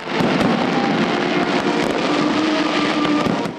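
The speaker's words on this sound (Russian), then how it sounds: "Завершился праздник на площади грандиозным салютом" Continuous loud rumbling and crackling with dense bursts from a grand fireworks display over a town square at the end of a festival, heard as a steady roar with no talk.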